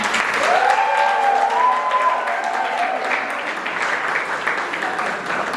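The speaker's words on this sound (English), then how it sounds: "Let's have another round of applause for everyone who helped organize this event." Steady applause from a crowd fills the whole stretch, dense and sustained clapping at an even level with no pauses.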